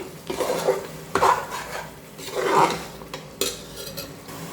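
Tomatoes sautéing in a pan for chicken biryani, with loud close scraping strokes of a spoon stirring against the pan in uneven bursts over a soft sizzle.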